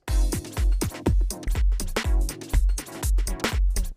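A punchy electronic beat with heavy kick drums and bright hits, rapid stuttering repeats from a beat repeat effect chopping the rhythm, loud and dense throughout.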